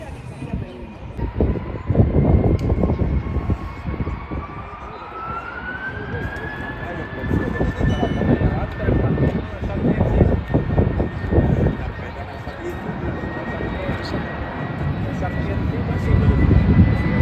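British Airways jet on the runway at Gibraltar, a loud sustained roar with a rising whine that swells and stays steady, heard outdoors with people talking over it.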